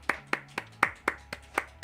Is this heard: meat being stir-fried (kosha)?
no